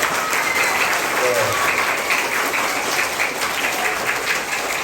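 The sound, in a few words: thunderous applause from students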